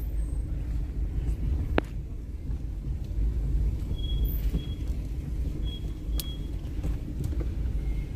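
A car sits idling or moving slowly in a doctors' parking area at a teaching hospital in Abakaliki, heard as a steady low rumble with wind across the microphone and a couple of faint clicks, distant and continuous.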